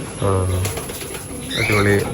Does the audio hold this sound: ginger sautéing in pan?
no